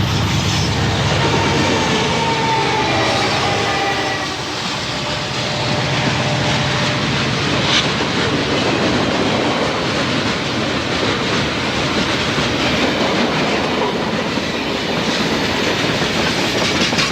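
Norfolk Southern freight train on the Pocahontas Division in 1990, led by a C39-8E locomotive, rolls past steadily with loud continuous rumble, wheel noise and clickety-clack of cars throughout, no voices.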